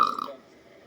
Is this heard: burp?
yes